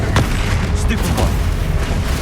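Stupefy spells fire in Hogwarts Legacy amid a steady roar of combat, with a few sharp bright bursts of magic over a dense, loud low rumble and a voice speaking.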